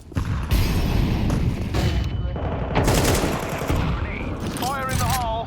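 Gunfire in Counter-Strike on the Inferno map, loud close bursts of automatic shots and booming reports in quick succession, with a brief electronic warble near the end.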